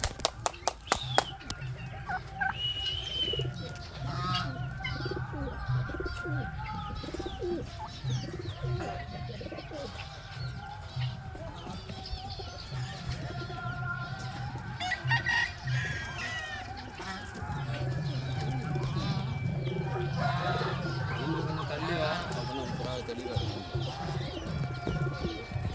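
Racing pigeons on a loft landing board coo and flutter in a steady, close chorus of low throaty calls, with occasional wing clatter and faint voices in the background.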